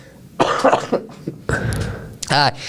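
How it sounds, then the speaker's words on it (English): Two or three harsh coughs sound up close, followed by a raspy throat-clearing, with a voice speaking between them. "Cough coming."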